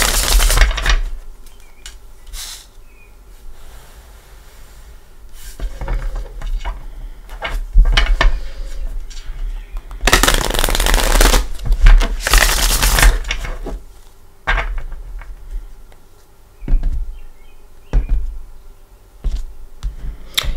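A Gilded Tarot card deck is shuffled by hand in several loud, crisp riffling bursts with short pauses between them, up close and without talking.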